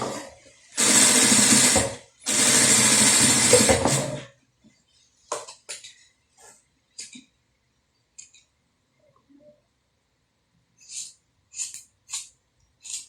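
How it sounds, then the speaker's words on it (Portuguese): A sewing machine stitches the lining of a bucket bag in two loud, steady bursts of rapid mechanical whirring, followed by scattered short clicks and rustles of fabric handling. "Agora eu vou passar uma costurinha também aqui."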